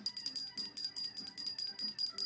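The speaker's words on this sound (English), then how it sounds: "So when I ring the bell, it just means I need something." A small hand bell rings repeatedly in quick, bright jingling bursts, close and clear, with no voices.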